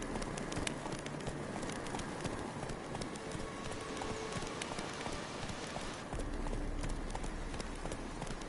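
Hooves of the horse Roach in a PS4 video game, a fast steady clip-clop gallop running continuously under ambient game sound and bird calls.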